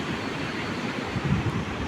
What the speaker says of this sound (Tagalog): Sobrang laki ng alon.